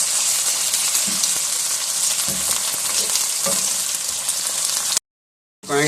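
Chicken pieces with ginger-garlic paste and light-brown onions sizzle steadily in a hot pan, a continuous loud frying hiss with a few stirring scrapes, ending in a short silence before the sizzle returns.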